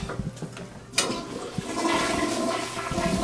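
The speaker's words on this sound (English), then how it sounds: "Sorry, I had to flush the toilets." A household toilet, apparently clogged, flushes with a sudden loud whoosh about a second in, then settles into a steady rushing swirl of water that carries on to the end, close by.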